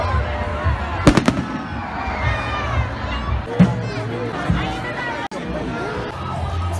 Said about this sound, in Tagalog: Tapos may pa-fireworks sila.